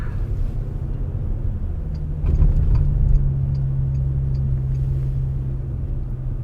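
A car drives along a road with a continuous low engine and tyre rumble inside the cabin, swelling slightly midway before settling back to a steady hum.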